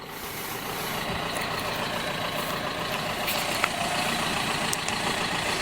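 A small tractor pulling a trailer works in a field while stones are collected. Its engine gives a steady, low, rumbling drone throughout, with a few faint clanks over it.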